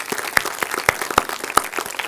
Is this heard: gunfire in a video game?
no